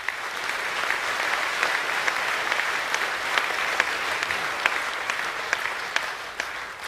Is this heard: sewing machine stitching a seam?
no